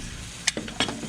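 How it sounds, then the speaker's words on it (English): Food sizzles and crackles on a hot Blackstone griddle while Spanish goulash is cooked, with a couple of brief metallic scrapes and clinks close by. "The sizzling over there is making me more hungry."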